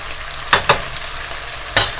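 Beef pepper steak sizzles steadily in a hot pan, a loud continuous frying hiss broken by a few sharp stirring scrapes and pops.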